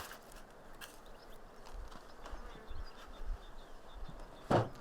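Honeybees at an open apiary hive give a faint, steady insect hum under outdoor background noise, with a brief louder buzz near the end as a bee passes close.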